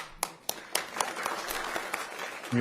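A few sparse claps on a podcast set, about eight distinct sharp hand claps spaced irregularly over a quiet background, near and fairly soft.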